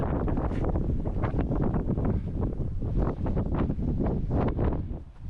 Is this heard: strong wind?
yes